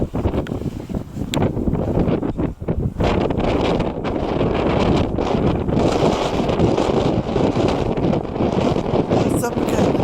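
Strong wind gusts buffet the microphone while walking around an old fort, a loud continuous roar with rustling and gusty swells throughout, and no talking.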